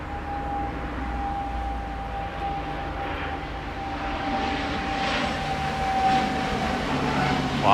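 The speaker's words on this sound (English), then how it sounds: "Oh, another airplane coming." Airplane passing over Tokyo, a low steady engine drone with a faint high whine that slowly swells in loudness as the aircraft draws nearer, heard alone without talk.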